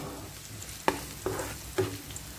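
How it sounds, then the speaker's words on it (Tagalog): Onions fry in a pan for sautéed shrimp paste, a soft continuous sizzle punctuated by three distinct spatula taps against the pan. "lutuin lang din natin yung sibuyas"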